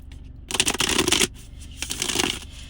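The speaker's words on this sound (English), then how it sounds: "I'm gonna pull more cards on this." Tarot cards are shuffled close up in two bursts of riffling and slapping, a longer run followed by a pause and then a shorter second shuffle, with no one talking.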